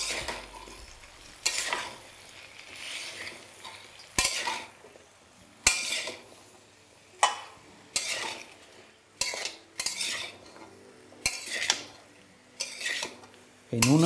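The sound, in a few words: stirring red amaranth greens with turmeric and salt in a pan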